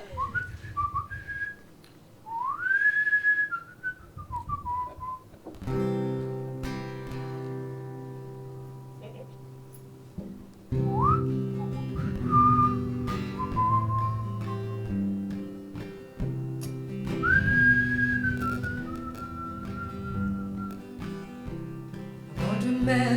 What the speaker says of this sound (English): I know some French whistling.